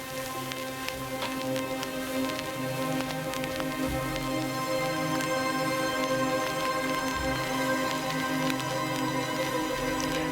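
Black Sky synth patch from the Spitfire Audio Polaris plugin, a steady grainy, crackling texture layered over sustained harmonic synth tones that hold evenly throughout without any voice.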